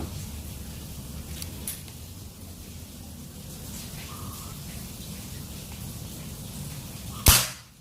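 A single crisp shot from a PCP L-38 mini air pistol at 2500 psi snaps loudly near the end of an otherwise steady, low rumbling background.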